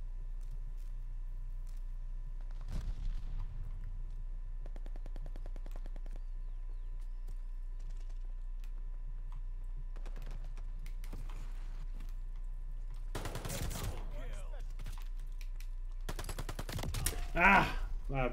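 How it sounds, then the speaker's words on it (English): MP40 submachine gun bursts in Call of Duty Vanguard hardcore mode, several loud rapid volleys spaced through the clip over steady game ambience, with heavier firing near the end. "I was shooting all over the place right there."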